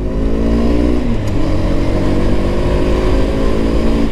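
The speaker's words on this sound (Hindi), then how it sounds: "बाकी अभी इसका पिकअप देखते हैं कैसा है कैसा नहीं है" A Hero Xtreme 160R Stealth Edition motorcycle from 2022 accelerates hard, its engine note loud and continuous throughout, rising steadily as the bike picks up speed, with no talking.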